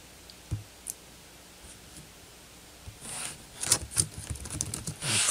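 Keystrokes on a computer keyboard while entering data into a Microsoft Access database, sparse faint clicks at first, then a denser burst of louder, close taps toward the end.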